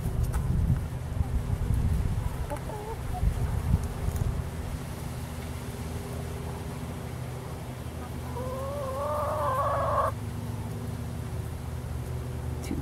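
Plymouth Rock chickens in a backyard flock murmur faintly over a steady outdoor hum. Near the end comes one clearer clucking call lasting a couple of seconds.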